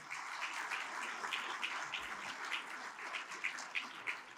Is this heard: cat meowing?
no